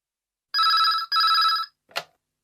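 A telephone rings twice at a restaurant, each ring a loud electronic trill of about half a second, followed by a brief click as it is picked up.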